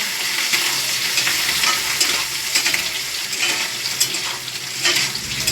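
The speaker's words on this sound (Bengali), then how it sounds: "ভাজা হয়ে গেছে চিংড়ি মাছ" Shrimp frying in a pan with salt and turmeric, giving a loud, dense, continuous sizzle up close, with occasional brief surges and faint stirring scrapes, and no voices.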